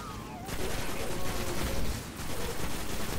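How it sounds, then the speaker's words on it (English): Rapid automatic gunfire in the video game Destiny, a dense continuous rattle of shots throughout with a brief dip in intensity near the start, loud and close. "Who the hell's shooting me?"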